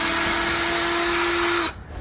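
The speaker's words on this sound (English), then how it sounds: "So I'm gonna start taking out all these screws that are around this entire building to all the units." A power drill whines steadily and loudly at close range while backing screws out of a building, then cuts off abruptly near the end.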